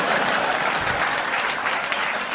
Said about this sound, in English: Let's give 3 of them a nice round of applause there.